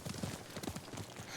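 Horse hooves clip-clopping at a steady riding gait in Ghost of Tsushima, faint and brief with a quick rhythmic beat.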